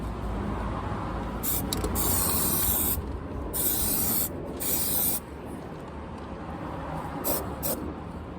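Steady hiss of spray paint being applied as a second coat to the boot of a Mercedes SLK R170 during rust repair, with short bursts and pauses over a constant background noise.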